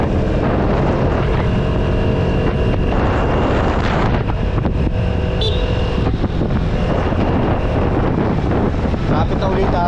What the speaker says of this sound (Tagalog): Vespa S125.